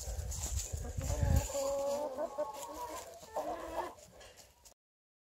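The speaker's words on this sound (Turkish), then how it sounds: "Benim Sussex horozum ve tavuğu." A Sussex rooster and hen in an ornamental garden flock near Antalya cluck close by, with a loud low burst early on and then a string of varied throaty clucks and calls over outdoor background noise, ending abruptly.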